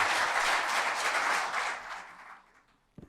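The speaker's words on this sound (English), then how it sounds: "Give it one round of applause." A conference audience at the Wireshark SharkFest panel session applauds the panelists; the clapping is dense at first, then thins and fades out over a few seconds, followed by a brief knock near the end.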